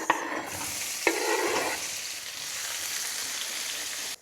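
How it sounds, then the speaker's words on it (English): Cumin seeds and onions fry in ghee with a steady close sizzle, broken early by a couple of sharp stirring clicks and scrapes, with no voices. "I'm starting with some ghee, then cumin seeds or jeera, and then the onions"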